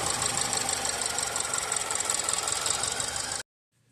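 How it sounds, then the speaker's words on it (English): A 2013 Land Rover Evoque engine idles with a single-cylinder misfire on cylinder four, giving a steady, close, loud rough idle with an uneven knocking pulse for about three and a half seconds before cutting to silence. "So we are dealing with single cylinder misfire, and it is confirmed with cylinder 4."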